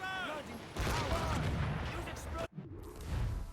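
Ship cannons fire in a naval battle in the video game Assassin's Creed Rogue: rumbling broadside blasts and rolling booms mixed with shouted crew voices, with a brief abrupt dropout near the end.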